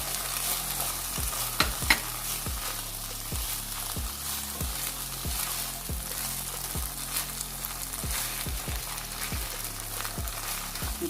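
A chicken and bread dish with stock and cornflour sizzles steadily in a pan, while a spoon scrapes and taps in a regular rhythm of stirring strokes. No one speaks.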